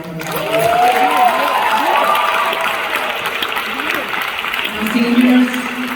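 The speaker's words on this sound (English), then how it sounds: "Can y'all give our seniors a round of applause?" A school Key Club crowd applauds its graduating seniors with steady clapping, whoops and overlapping voices, swelling loudly at the start and again near the end.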